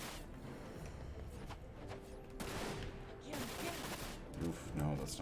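Rifle and machine gun fire in the video game Dirge of Cerberus: Final Fantasy VII, with faint bursts of gunshots and rapid fire mixed into busy game noise, low in level.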